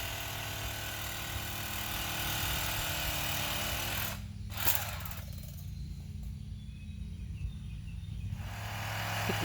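A reciprocating saw cuts into a storm-damaged tree, a loud steady buzzing drone with a brief pause partway through before the cutting resumes.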